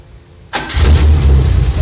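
A car engine starts up from cold: quiet background, then a sudden crank that catches into a loud, close, rumbling idle that stays strong to the end.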